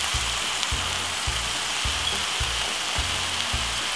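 Ground meat seasoned with everyday seasoning and coarse pepper browns in a frying pan for lasagna, giving a steady close sizzle with regular rhythmic scraping or stirring thumps underneath, no talking.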